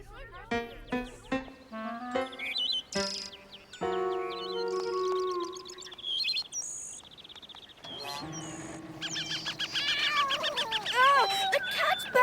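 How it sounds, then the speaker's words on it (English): Cartoon cat meowing in a children's animated show, several bright, pitched meows and yowls mixed with chirpy bird-like calls and music-like tones, close and clear, with no speech over them. "The cat's back!"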